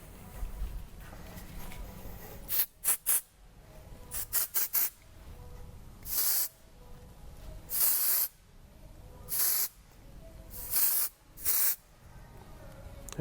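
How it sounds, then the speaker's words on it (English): Repeated short hissing bursts from an Eleven Australia dry finish texture hair spray aerosol can, fired in about ten quick puffs, some clustered in rapid pairs and triples, others longer, close and loud over a quiet room. "Dry finish texture spray."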